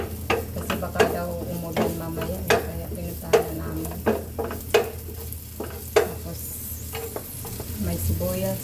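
Onions frying in a pan while being cooked with vegetables, a steady close sizzle punctuated by repeated sharp scrapes and clacks of a utensil stirring against the pan.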